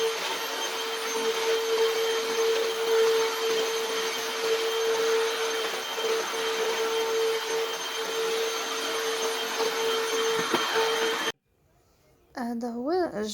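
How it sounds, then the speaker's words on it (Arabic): A vacuum cleaner drones loudly and steadily as it passes over a household floor for about eleven seconds, then cuts out abruptly, and a voice follows. "جيت هنايا ندوز على البيس بلاسبيغاتور ودوزت على الدار كامله باش نجفف"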